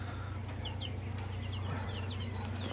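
Jersey Giant chicks in a brooder give soft, short clucks and chirps, a few scattered calls near the microphone over a steady low fan-like hum.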